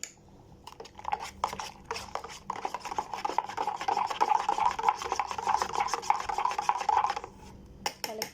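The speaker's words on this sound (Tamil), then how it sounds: "தண்ணி ஊற்றி கலக்கி எடுத்துக்குவோம்." Milk powder and water being stirred in a bowl with a spoon, a continuous scraping, rasping swirl of metal against the dish that runs steadily for several seconds, fairly close, with no voices.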